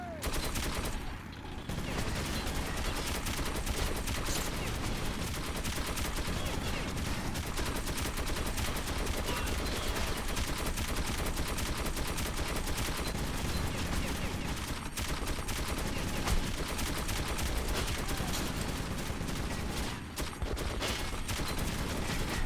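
Sustained gunfire in the first-person shooter Metro 2033 Redux, with a steady, loud barrage of rapid shots running almost unbroken over twenty seconds and only brief dips.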